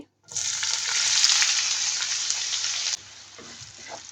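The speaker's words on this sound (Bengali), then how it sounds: "এখন 1 কাপ দিয়ে দিচ্ছি পেঁয়াজ কুচি" Chopped onions hit hot oil with cumin seeds and sizzle loudly and steadily for a few seconds, stirred close up, then the frying drops to a softer crackle.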